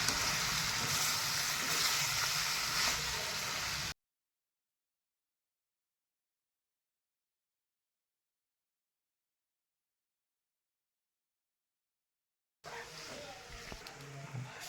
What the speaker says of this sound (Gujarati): મસાલા બધા બરોબર શેકાઈ ગયા હવે એમાં આપણે પાસ્તા એડ કરીશું મેં હવે મિક્સ કરીશું